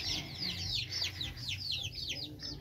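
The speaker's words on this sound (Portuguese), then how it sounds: "Ó a Jezebel e os pintinhos dela" A hen clucks softly among her chicks, which give a run of high, thin peeps close by. Faint background rustle sits beneath the calls.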